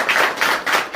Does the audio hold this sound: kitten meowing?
no